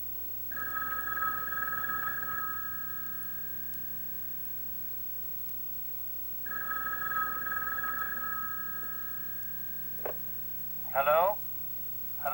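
Two long bursts of an old landline telephone bell ringing in a 1970s television drama scene, each about two seconds, clear and steady over a low hum, followed by brief clicks as the handset is picked up.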